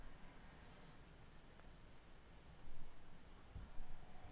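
A pencil shades a drawing in circular motions. Soft, faint scratching rustles on paper continue steadily for a few seconds, very close and quiet against background hiss.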